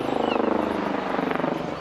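Westland Lynx AH7 helicopter, airframe XZ179, flying at a seaside airshow, its rotor beating in a steady rapid thump over a broad engine roar, loud and fairly close throughout.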